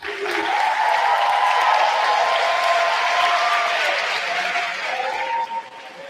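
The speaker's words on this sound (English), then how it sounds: "give them a huge round of applause" A large graduation audience claps loudly and continuously, with faint cheering and some voices mixed in, before the applause trails off near the end.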